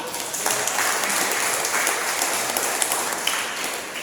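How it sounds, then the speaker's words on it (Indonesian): A church congregation applauds steadily, dense clapping from many hands filling the space for a few seconds with no voices on top. "Tepuk tangan untuk Tuhan"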